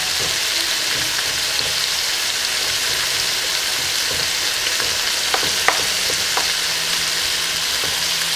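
Meat fries in a pan for a Persian green bean stew, a steady close sizzle with a few soft clinks and stirring knocks near the end, and no talking.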